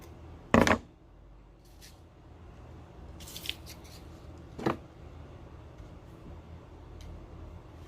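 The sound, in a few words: scissors cutting ribbon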